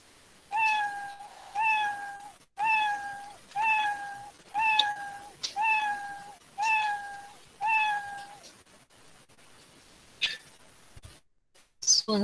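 Cat meow sound effect played back by a programming app, seven similar meows in an even rhythm about a second apart, clear and close, followed by a few faint clicks.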